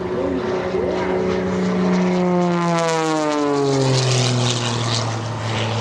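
A single aerobatic airplane flown by Scott Francis at the 2024 Westmoreland County Airshow roars loudly overhead, its propeller engine pitch sweeping down in a strong Doppler drop as it passes close by.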